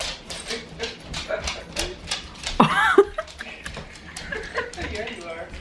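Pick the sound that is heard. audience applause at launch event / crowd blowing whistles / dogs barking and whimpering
dogs barking and whimpering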